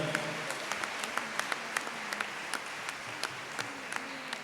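Loud, steady clapping from a church audience at a youth retreat Mass, sharp individual claps popping out of a dense wash of applause throughout.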